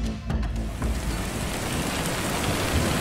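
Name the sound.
heavy rain, story sound effect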